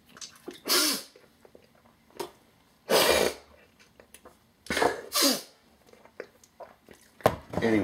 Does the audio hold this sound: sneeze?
yes